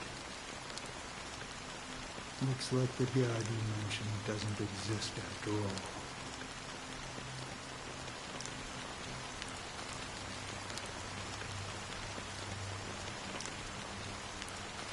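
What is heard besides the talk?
rain falling in Honkai: Star Rail, video game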